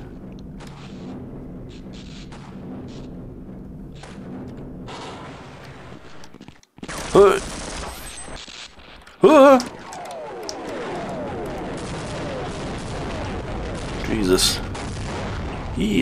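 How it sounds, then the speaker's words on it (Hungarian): Explosions and gunfire from the Half-Life: Uplink demo, with loud sudden blasts bursting out over a rumbling battle din, several sharp booms standing out, while someone talks over the game sounds. "Jézusom, mi robban itt?"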